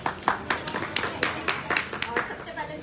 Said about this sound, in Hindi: जोरदार तालियों के साथ अर्चना